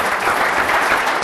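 Studio audience applauding during an Italian TV broadcast, a dense, steady wash of clapping that fills the moment without a break and carries no speech over it.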